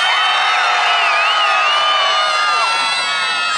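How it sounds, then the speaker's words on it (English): A large crowd gives a loud, sustained cheer with whoops and children's shouts at a Mansfield homecoming parade for Olympic and Paralympic athletes in September 2012, filling the whole stretch with no break. "let's hear a nice big Mansfield cheer"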